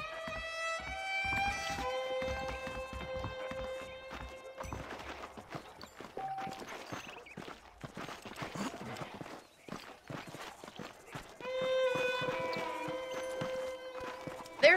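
Horse hooves clip-clop at a walking pace in the game Red Dead Redemption, soft and steady, under a musical score with bright plucked notes.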